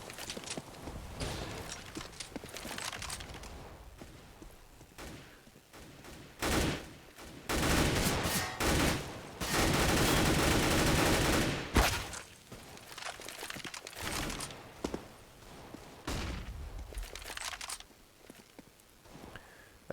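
Gunfire from the video game Counter-Strike on the de_cache map, with bursts of shots, a long sustained volley in the middle and sparse footsteps between, loud and close in a competitive match.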